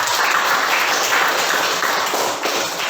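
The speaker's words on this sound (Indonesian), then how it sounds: "terima kasih dan tepuk tangan semua" Classroom applause from students, a dense steady patter of many hands clapping at once, fairly loud and continuous, fading slightly toward the end.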